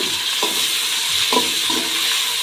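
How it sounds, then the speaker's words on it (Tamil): Tomatoes with a little salt sautéed in a pan, a steady sizzle broken by a few scraping stirs of a spoon, close and moderately loud with no talking. "தக்காளி வதங்கிறது கொஞ்சமாக உப்பு சேர்த்துக்கிறேன் சேர்த்து இப்போ நல்லா வதக்கி விட்டுடலாம்"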